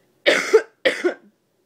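A person with a bad chesty cough and sore throat, late in pregnancy, coughs twice in close succession, each a harsh two-part burst, loud and close with silence around them.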